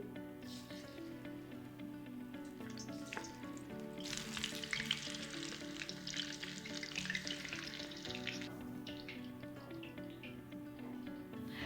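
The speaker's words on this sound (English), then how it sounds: "And now we'll add them to the hot oil." Muthia, lemon-sized balls for undhiyu, frying in hot oil: a steady close sizzle swells loudly as they drop in around the middle, then settles back to a softer bubbling crackle, with no talk.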